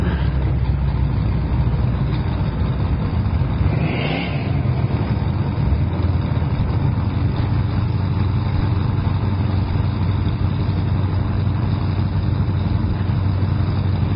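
Drag racing at a drag week event, a 1995 white Camaro against a big orange Mopar, engines roaring loud and steady throughout with a brief rising rev surge near the start, no talk.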